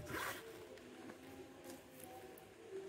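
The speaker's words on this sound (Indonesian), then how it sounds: "Ada ini resletnya, resleting." A zipper is pulled open on an item from a cheap mystery-box unboxing, giving a quick, bright rasp near the start, followed by softer handling rustle.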